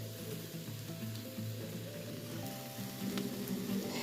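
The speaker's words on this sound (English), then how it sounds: "When you put your stuff on there, you'll hear that shh under there." Stir-fry with soy glaze sizzles in a hot pan, a steady crackling hiss at moderate level throughout, with a faint hum of background music and no talking.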